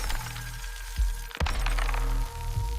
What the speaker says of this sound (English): Then I heard it, a crack.